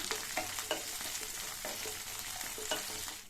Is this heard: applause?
no